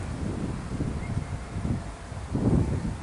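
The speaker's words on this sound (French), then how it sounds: "Vous entendez ce vent, c'est extraordinaire." Strong wind buffets the microphone in low, rumbling gusts, swelling louder near the end, with no voices present.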